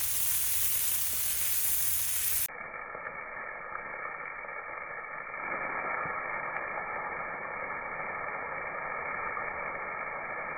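Smashburger patties sizzle on a Kamado Joe grill, giving a steady, dense hiss of frying fat that carries on unbroken throughout and sounds close by.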